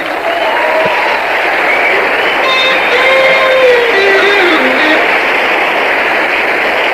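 A large concert crowd at a show in Tambaksari, Surabaya, 1982 claps steadily for the band leader, a dense, even wash of applause throughout with faint tones sliding through it.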